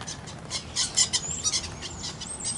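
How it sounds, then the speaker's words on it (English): Small birds chirping outdoors, with a series of short, high tweets and a few whistled calls scattered at moderate distance over quiet background noise. "getting attacked by birds."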